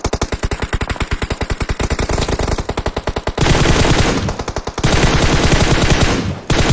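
Rapid automatic gunfire from a battle royale squad video game, loud and close, hammering in fast evenly spaced bursts with short breaks between strings of shots and no audible talking.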